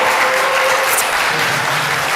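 Audience at a Rotary Oakland meeting applauds steadily as a gospel choir makes its way to the stage; dense, continuous clapping from a full room, no voices over it.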